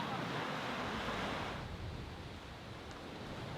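Ocean surf washes steadily near the shore in Bali, a broad hissing roar mixed with wind buffeting the microphone, fading slightly partway through.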